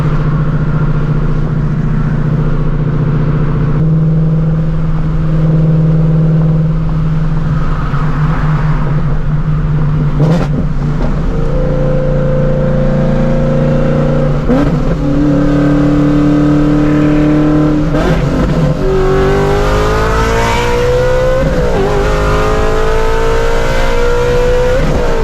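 A 900 horsepower Shelby GT350 accelerates hard from inside the cabin, its engine note rising through gears in repeated upward sweeps with shifts between them, loud and close throughout.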